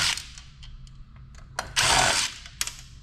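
Small screws are backed out of a heavy amplifier's black circuit board with a #1 Phillips screwdriver, producing close, faint scraping and clicking with short bursts of rasping metal contact.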